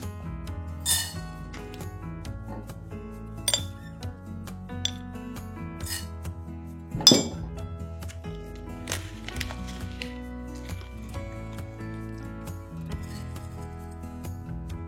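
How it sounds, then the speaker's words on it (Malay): Whole spices for beef rendang dry-roasting without oil in a pan, with soft rattling and occasional metallic clinks of a utensil, fairly quiet and unhurried. "Kita akan sangai atau goreng tanpa minyak supaya keluar aroma rempah ni"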